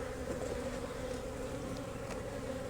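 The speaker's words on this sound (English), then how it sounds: "All these bees are coming back from the field" A dense swarm of honey bees returning to the hive hums continuously, a steady buzzing drone with individual bees zipping close by.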